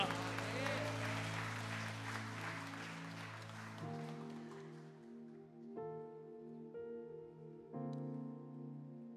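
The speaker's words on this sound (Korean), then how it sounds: "우리 하나님께 감사와 영광의 박수 올려드립니다." Church congregation claps for several seconds during a Sunday worship service, the applause mixed with sustained keyboard chords and fading out while the music carries on alone.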